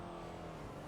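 A Lamborghini Aventador drives in GTA, a faint steady engine drone with a constant tonal hum, distant and unchanging.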